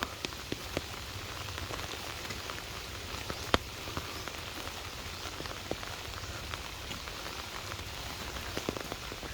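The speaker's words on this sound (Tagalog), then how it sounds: "nakakamiss din yung ganitong klase ng ulan" Steady rain falling outdoors on a walk toward a hut, a dense even patter with scattered louder drops, continuous and fairly soft with no talking.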